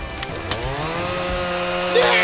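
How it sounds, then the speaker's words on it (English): A video game chainsaw buzzes and whines continuously at moderate level, with a few sharp clicks early on and a brighter burst near the end. "Please don't use the chainsaw on. No."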